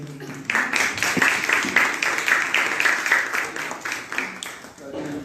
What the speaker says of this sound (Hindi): हमारे बीच में जोरदार तालियों से उनका स्वागत करेंगे